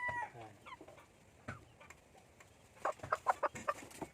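Young Rhode Island Red and native free-range chickens clucking close by, a few scattered calls followed by a quick burst of rapid, rhythmic clucks, with no talk over them.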